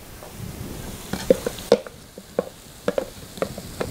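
Pre-chopped garlic tossed into a pot of cooked-down vegetables for hamburger stew, a faint sizzle under a series of sharp spoon taps and clinks against the pot, spaced irregularly.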